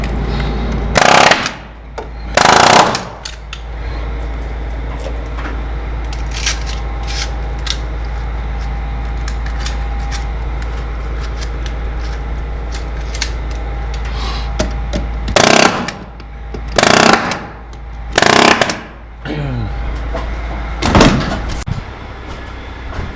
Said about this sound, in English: Just nailing off the hangers here.